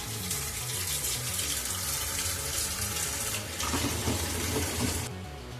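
Water gushes steadily from a tap for several seconds, a constant splashing rush that surges slightly louder near the end before cutting off.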